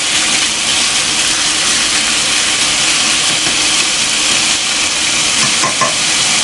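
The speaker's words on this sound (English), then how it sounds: "Okay, I'm gonna let this fry up a bit." Chicken pieces browning in a pot for a Japanese cream stew give a loud, dense, steady sizzle and crackle with no pauses, and faint stirring near the end.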